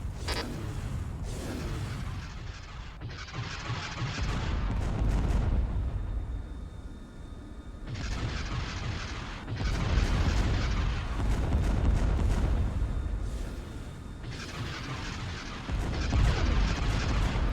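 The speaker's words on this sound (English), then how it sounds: "That's a lot of rockets." Rockets fire in waves during a space battle in the video game Empire at War: repeated loud booming launches and explosions surge and rumble in several clustered bursts, with brief lulls between them and no voices.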